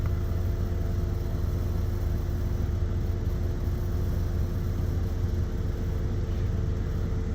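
A car hauler trailer's deck lift raises a vehicle toward the top of a four-deck rack, with a continuous, even, low mechanical rumble that holds steady and close throughout.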